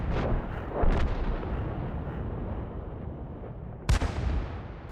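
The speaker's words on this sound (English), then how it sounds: "Pops off a couple shots" Tank cannon fire from a King Tiger in World of Tanks on the Abbey map: two loud, sharp booming shots about three seconds apart, each rolling into a long rumble over steady battle noise.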